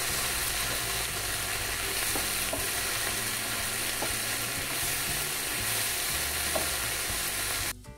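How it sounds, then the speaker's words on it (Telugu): Onion-stalk and urad vadiyalu tamarind curry bubbling in a pan on the stove, a steady frying sizzle with a few soft clicks of a spoon stirring, heard close and continuous. "ఇప్పుడు అటు ఇటు కలిపేసుకుందాం ఒకసారి"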